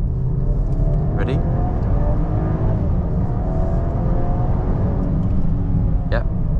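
A 2022 Land Rover Discovery Sport P290 petrol SUV accelerates hard, its engine a loud, sustained droning rumble heard from inside the cabin, rising steadily throughout with faint gear-change blips.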